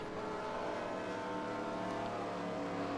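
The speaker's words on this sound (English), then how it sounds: "There's more cars up ahead. You can hear them." Several race cars in a stock-car racing video game at Charlotte drone steadily at close range, their layered engine tones blending into a continuous loud roar with no talk.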